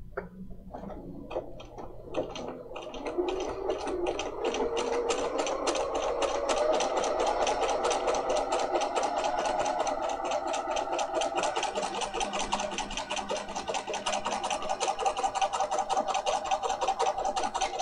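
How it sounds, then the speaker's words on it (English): A Bernina 300 series sewing machine stitches out a decorative pattern, its rapid needle ticks running steadily and close-up after a brief start, continuing alone at an even rhythm for the whole stretch. "Let's go ahead and give that a stitch out"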